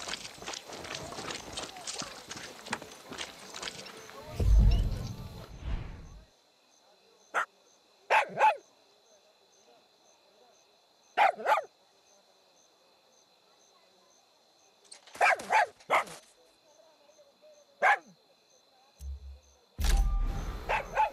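A dog barks in Far Cry 6, a few separate short barks spaced across a quiet stretch, after an opening burst of louder game noise and movement.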